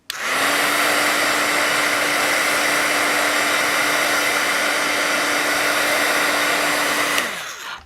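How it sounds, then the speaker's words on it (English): Heat tool blowing hot air to dry ink on a handmade card, a loud steady whooshing hum that starts abruptly and runs for several seconds before cutting off. "So I'm gonna hit this with my heat tool just to really make sure it's dry before I get to the coloring."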